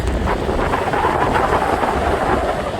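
Strong, steady wind roars and buffets the microphone at Niagara Falls, a dense continuous rush.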